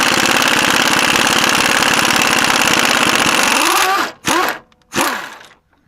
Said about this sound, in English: I'm going to take this air impact.